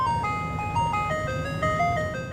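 An ice cream truck's tinkling electronic jingle plays a simple stepwise melody, bright and clear over a low engine rumble.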